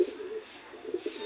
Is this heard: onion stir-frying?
no